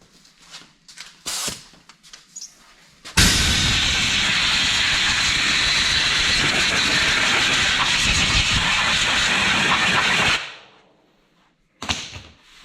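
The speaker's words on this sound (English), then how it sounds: "I'm gonna use the air compressor and blow this crap out." Air compressor blowing debris out of a 1955 Plymouth Savoy, a loud steady hissing blast of about seven seconds that cuts off sharply, with short bursts and handling noises on either side.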